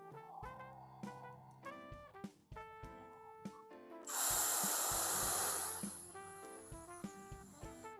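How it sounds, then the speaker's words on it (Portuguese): A long, loud breath is drawn in for a trumpet breathing exercise, a hissing inhale of about two seconds heard over soft background music with repeated notes. "Então você respira."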